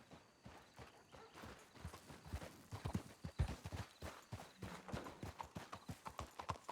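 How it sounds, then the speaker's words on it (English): A horse's hooves clip-clop along a road in the video game Red Dead Redemption 2, a steady, close, fairly loud walking rhythm of distinct hoof strikes that continues with no voices. "I love that sound of horses."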